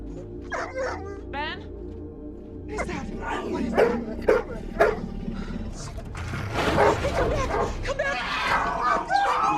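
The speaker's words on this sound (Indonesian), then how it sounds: "tiba-tiba si anjing menggonggong karena seekor hewan buas mencoba mendekati mereka" A dog barks and yips sharply at an approaching wild animal, then whimpers, with a voice talking over the commotion.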